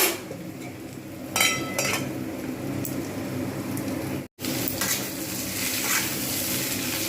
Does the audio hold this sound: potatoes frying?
yes